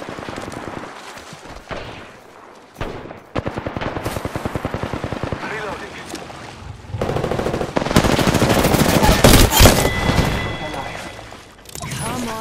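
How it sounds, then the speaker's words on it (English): In Apex Legends Season 5, rapid bursts of automatic gunfire rattle loudly in the middle, followed by dense, overlapping shots and heavy impacts. A voice talks over the action. "I am taking fire."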